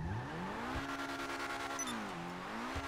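A customized car in the video game GTA 5 revs its engine loudly and steadily, the pitch climbing, holding, dipping and rising again, with a brief tire squeal near the end.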